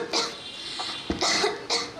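Coughing during a school stage performance at a science exhibition inauguration, a few sharp, fairly close coughs in quick succession, one after another.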